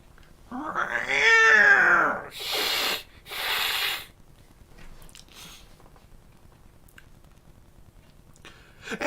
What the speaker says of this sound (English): I miss the meow.